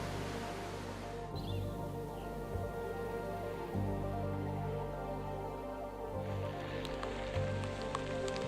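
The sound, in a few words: hailstones falling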